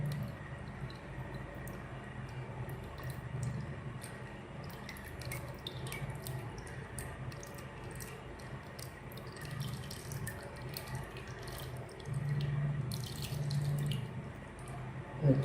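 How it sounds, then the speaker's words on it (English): Mixed lye solution is poured gently into oil to make laundry bar soap, giving a faint, continuous liquid trickle and sloshing that swells slightly toward the end. "once you mix the two solutions together, you go ahead and add it into your oil. You just do it gently."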